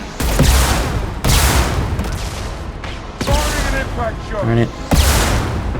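Rocket launcher fire in Mass Effect 2 gameplay: several loud, sharp blasts and booms burst at irregular intervals amid battle noise, with a player's voice talking over them.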